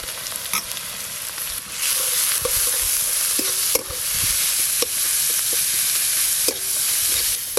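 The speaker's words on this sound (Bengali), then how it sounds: "পেঁয়াজ কুচি আর করলার দানা খুব ভালো করে ভাজা ভাজা করব।" Chopped onion and soft bitter gourd seeds fry in mustard oil, making a loud continuous hiss and crackle, while a spatula scrapes and clinks against the pan at irregular moments.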